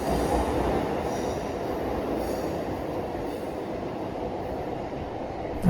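An MRTS suburban train runs along its rails, a continuous loud rumble of wheels with a faint clickety-clack, heard close from on board with no talking.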